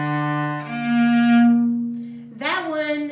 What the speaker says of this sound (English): The next one is going to be the minor sixth.